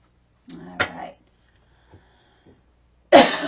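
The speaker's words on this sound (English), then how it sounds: "I've had this awful cough. It just comes up during the night" A harsh, throaty cough burst up close, then a brief quiet stretch with faint clicks, followed by another loud, raspy cough.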